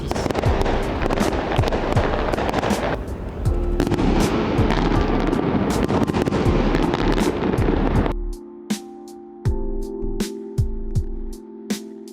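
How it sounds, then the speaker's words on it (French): Fireworks over Cannes, a dense run of bangs and crackles for about eight seconds, then a quieter stretch of separate sharp pops and booms with a lingering hum, heard from a distance with no talk. "Feu d'artifice."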